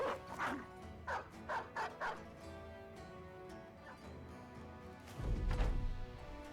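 Several dog barks and yips from a battle in the Battle Brothers video game, five quick barks in a burst near the start, then a low crash or thud of combat near the end, over a steady game background.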